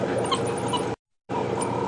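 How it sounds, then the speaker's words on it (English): High-pitched yipping and twittering from excited African wild dog pups at Djuma Game Reserve, bird-like chirps over a dense background, briefly interrupted by a gap of silence. "And listen to this high-pitched twittering."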